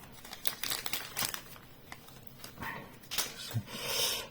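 Foil wrapper of a Yu-Gi-Oh Phantom Nightmare booster pack crinkling and rustling up close in irregular bursts, as if a struggle to tear it open, with a few sharper crackles and no talking.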